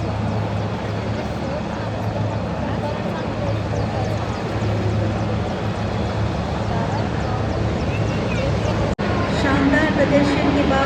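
Sea King Mark 42B military helicopters fly past during a navy ceremony in Mumbai: a loud, steady rotor and engine drone with a low hum that holds throughout, with crowd and announcer noise mixed beneath and a brief dropout near the end.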